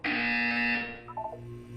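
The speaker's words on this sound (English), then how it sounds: "When you hear the buzzer, look up at the ceiling." A loud, harsh electronic buzzer from the Portal 2 tutorial sounds once for under a second, then fades into quieter tones and a low background hum.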